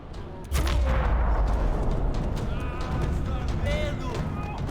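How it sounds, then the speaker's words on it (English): Gunfire in the video game Max Payne 3 erupts as a sudden loud burst and continues as a dense rattle of shots, with someone talking over it throughout. "Gunfire. Also in Max Payne."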